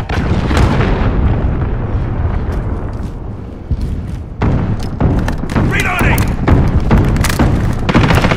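Heavy booming explosions from cruise missile strikes in Call of Duty Modern Warfare ground war, with repeated deep thuds and rumbling blasts that run continuously under battlefield radio voices.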